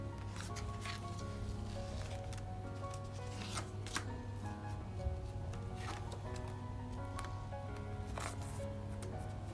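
K-pop photocards for Twice, AB6IX and Everglow being handled and slid into binder sleeves, giving soft close rustles, plastic crinkles and small flicks over a steady low hum, no talk.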